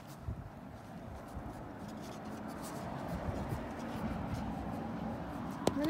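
Markers scratching and squeaking across paper while coloring a Lorax character in orange, quick short strokes repeating steadily at close range with a faint room hum beneath.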